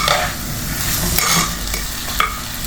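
Jackfruit core and seeds cooking in a pan, salted and stirred, give a continuous close sizzle broken by quick scraping stirs and a sharp knock of the spoon near the end.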